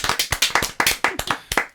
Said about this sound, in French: Oh, les applaudissements.